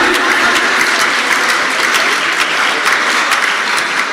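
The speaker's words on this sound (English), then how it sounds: "A round of applause again." Sustained applause from a conference audience at a two-day international academic gathering, a thick, even wash of clapping filling the room without pause, loud and close, with no speech over it.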